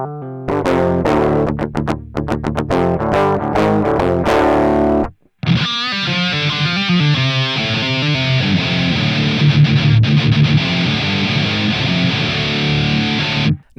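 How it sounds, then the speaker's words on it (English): Electric guitar plugged into a preamp, first several seconds of clean raw picked notes and chords, then a brief gap before a loud, sustained distorted tone through amp simulators, close and continuous with no talking. "play some guitar plugged into channel 2 and let you hear how the guitar sounds raw, as well as with some amp simulators on it"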